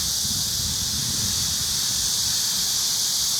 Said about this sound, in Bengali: পানির ফোয়ারা